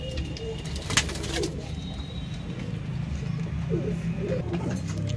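Pigeons for sale coo softly in short, scattered calls over a steady low background hum, with a faint tap near the start and no talking.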